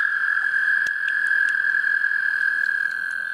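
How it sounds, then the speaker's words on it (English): A male wood frog calls in a wetland among other calling amphibians, a steady, dense chorus drone close by with scattered sharp clicks and taps over it, and no voices. "So that is a male wood frog."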